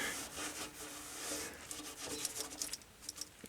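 A rag wipes excess oil away during an oil change. Soft, close rubbing and scraping strokes come in irregular bursts, growing choppier toward the end, with no talking.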